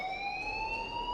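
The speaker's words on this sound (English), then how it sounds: "please turn off that alarm since that's your job" An alarm rings in the video game Life is Strange, a loud continuous electronic tone holding steady with bright harmonics throughout, no voices over it.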